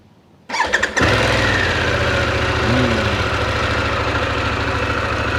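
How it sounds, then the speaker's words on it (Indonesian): A Harley-Davidson Pan America 1250 Special motorcycle from 2023 starts with a brief crank, then settles into a steady, close, loud idle with an even rumbling pulse. "Suaranya jauh beda kan dibanding Harley Davidson yang mesinnya yang sebelumnya"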